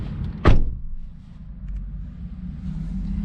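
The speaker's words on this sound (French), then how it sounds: "Je vais fermer la porte, on va mieux voir." A car door shuts with one solid, close thud on a Renault Megane 4 GT, followed by the low rumble of the car's interior and idle.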